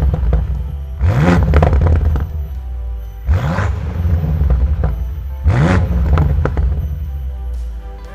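A BMW M8 Competition Convertible with twin rear exhausts revs three times, each sharp rising roar falling back to a deep, loud idle rumble between blips.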